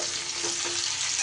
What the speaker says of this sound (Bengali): আলু কিন্তু আমার বেশ সুন্দর করে দেখুন লাল লাল করে ভাজা হয়ে গেছে।